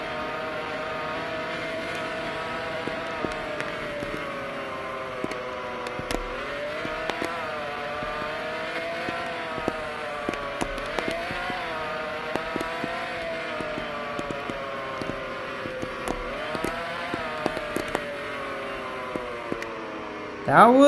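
A Ferrari supercar engine in the Roblox game Taxi Boss, a steady droning tone that rises and falls in pitch through repeated revs and gear changes, sustained and fairly close, with a brief loud burst at the end.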